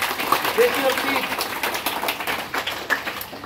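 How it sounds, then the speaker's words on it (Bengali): An audience of schoolchildren and staff applauds loudly at a school magic show after a student volunteer takes part. The clapping is steady and sustained for the whole stretch. "আরেকবার জোরে হাততালি রনিত হয়েছে।"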